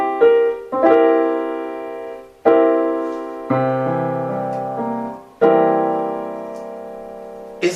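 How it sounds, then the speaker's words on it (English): A dominant seventh chord sounds on piano, struck several times as separate sustained voicings that ring and slowly decay. The strikes are clear and close, with no voices. "This chord is called, number 1, a dominant 7."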